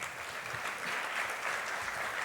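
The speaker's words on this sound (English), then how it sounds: "A lot of applause for the Principal Secretary." Applause for a principal secretary at an international conference on school safety, a steady crowd clapping that fills the whole moment at moderate distance with no voices over it.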